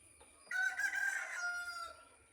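A single rooster crows loudly nearby, one long drawn-out call rising and tapering off, against quiet background.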